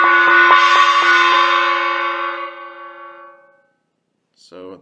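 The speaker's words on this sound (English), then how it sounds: "So that's the gong." A miniature gong is struck several times in quick succession, then rings on with a bright shimmering tone that slowly fades away. A voice speaks briefly at the end.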